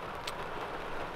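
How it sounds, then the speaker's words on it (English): Rain falls during a thunderstorm, heard from inside a truck as a steady, even wash of broadband noise with no talking. "Of course, it's raining."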